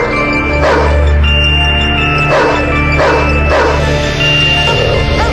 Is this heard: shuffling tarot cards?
no